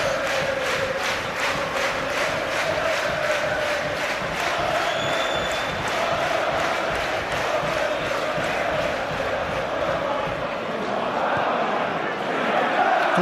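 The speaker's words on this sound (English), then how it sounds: "the fans, as you can quite rightly hear, will applaud it" Sustained, dense roar of football fans applauding at The Valley, Charlton's ground, late in stoppage time, a steady loud crowd wash throughout with a commentator talking over it.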